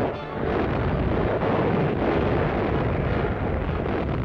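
Continuous heavy, rumbling blasts from a US Navy bombardment of Marshall Islands bases, booming dense and loud throughout with no break.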